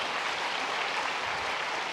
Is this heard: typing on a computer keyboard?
no